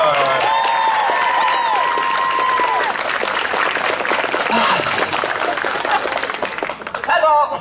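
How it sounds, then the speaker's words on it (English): Theatre audience applauds the crew after a stage production of The Sound of Music, a dense, loud wave of clapping sustained for several seconds with some cheering and crowd noise, swelling again near the end. "give them a round of applause."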